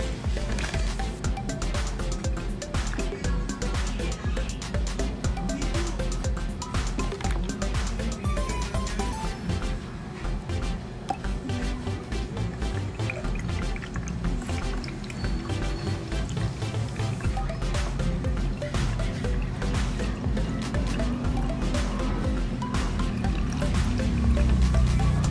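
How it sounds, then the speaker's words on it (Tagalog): Escanol clear liquid is poured into tretinoin to mix a 1:1 skincare formulation, a steady dripping, trickling fill that runs on at moderate volume with no talk. "buhos na rin natin siya dito para mix"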